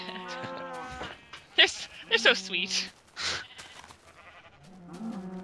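Cows lowing in a video game, several drawn-out harmonic moos and bleat-like calls nearby, mixed with people talking and reacting over them.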